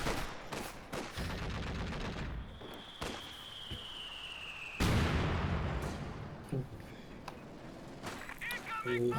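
Artillery shells and gunfire from a World War II strategy video game battle, with a Stuka dive bomber present: a dense, continuous mix of bursts and bangs, a long descending whine, and a loud impact midway, with commentary voices heard throughout.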